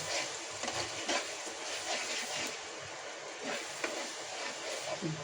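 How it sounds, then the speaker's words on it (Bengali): A spice paste of green chilli, poppy seed, cashew and raisin is stir-fried in a pan, giving a soft continuous sizzle with faint scraping stirs, quiet and without talk. "এবার দিয়ে ভালো করে মশলাটাকে কষিয়ে নেব।"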